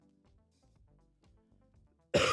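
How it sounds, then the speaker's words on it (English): A single loud cough hits a microphone up close near the end, abrupt and harsh after a stretch of quiet low background sound. "Just freaking coughed into the microphone."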